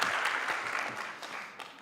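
A brief burst of audience clapping at a TVET college policy conference, a soft, steady patter of many hands heard at some distance.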